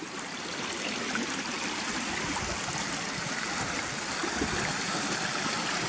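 A stream running down from waterfalls in the Yorkshire Dales between Gunnerside and Muker, a steady close rushing and trickling of flowing water, continuous and unbroken with no voices.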